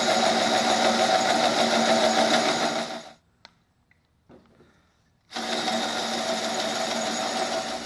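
A hole saw grinds through stainless steel on a sailboat fitting in a loud, continuous, harsh whine that stops abruptly for about two seconds, leaving near silence with a few small clicks, then starts up again at full strength.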